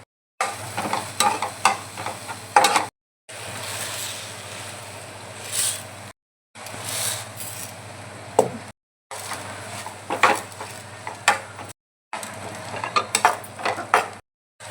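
Urad dal and kasuri methi frying in oil for a tempering, a crackling sizzle with intermittent metallic scrapes and clinks of a spoon stirring the pan, close by, heard in several short stretches separated by brief silences.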